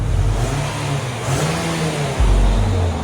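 A stock 2020 Nissan Altima SR with a 2.5-liter four-cylinder engine revs up close by, a steady, fairly quiet engine hum that rises briefly and swells again near the end.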